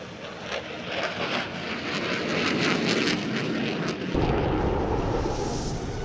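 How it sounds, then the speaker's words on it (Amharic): An Su-27 fighter jet flies overhead during an air force display, a loud, roaring, turbulent engine blast that swells and stays strong throughout, close and without talk. "ሱ-27 ተዋጊ ጀት አውሮፕላን"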